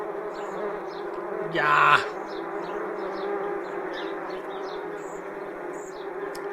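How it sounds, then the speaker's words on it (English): Steady wasp buzzing drones throughout, with a brief louder swell near the start as one passes close; a person says a single word. "I have a wasp problem"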